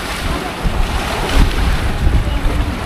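Sea waves wash against a seawall in Jakarta, a loud continuous roar of surf with buffeting wind noise on the microphone and no talk.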